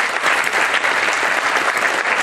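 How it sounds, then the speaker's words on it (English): Loud, dense applause from an audience of parents at a children's performance, steady clapping sustained throughout without a break. "So let's clap very loudly for all of you"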